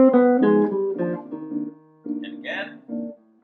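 Jazz guitar line played over a minor ii-V-I cadence with a backing loop, a run of plucked single notes moving over sustained accompaniment, loud and close with brief pauses between phrases.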